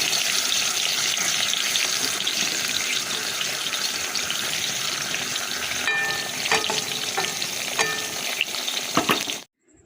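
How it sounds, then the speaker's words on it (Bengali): Papad frying in hot oil, a loud continuous crackling sizzle up close, with scattered clinks and pops toward the end before it cuts off abruptly. "পাঁপড় ভাজছি"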